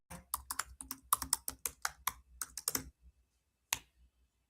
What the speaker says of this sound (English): I got to type slow. Guys, type slow.